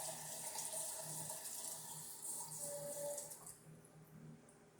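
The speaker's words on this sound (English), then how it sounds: "I'm going to rinse it with hot water and I'm going to pour it in there too" Hot water runs from a kitchen tap to rinse a measuring cup with leftover sugar, a soft steady trickle and splash that continues for several seconds before tapering off, heard alone.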